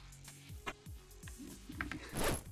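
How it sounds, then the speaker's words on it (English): Item pickup effect in a procedurally generated platformer game, a quick zipper-like rasp heard among several short clicks and mechanical ticks, fairly quiet and close, with a brighter burst near the end. "that zipper quickly closing is the pickup sound"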